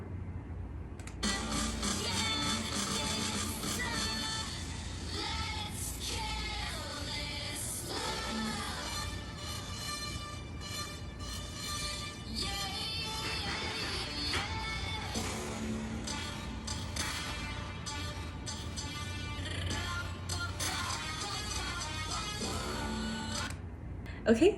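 A song plays slowed to half speed, a dense stretched mix of drawn-out vocals, low beats and smeared synth tones running continuously for over twenty seconds, with no talking over it.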